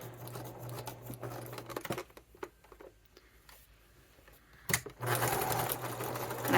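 Home sewing machine stitching a holiday stocking, running in short bursts of rapid, steady stitching with brief pauses for a back stitch, forward stitch and pivot at a corner, close and clear.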